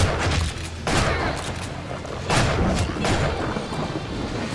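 Explosions in the video game Shank 2, several loud booming blasts and thuds spaced a second or so apart over a rumbling backdrop of game action.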